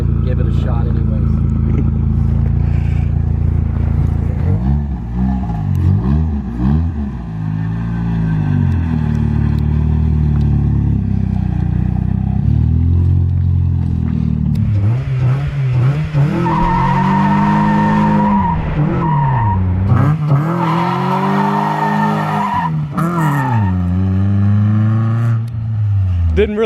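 A front-wheel-drive Mitsubishi Eclipse on hard-tread tires does burnouts, with loud, sustained tire squeals and skids over a roaring, revving engine that rises and falls throughout.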